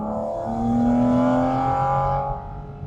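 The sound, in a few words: car engine revving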